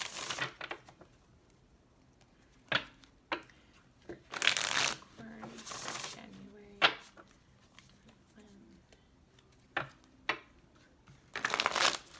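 Intermittent crisp riffling and flicking of tarot cards being shuffled, short bursts spread out over quiet gaps, close up.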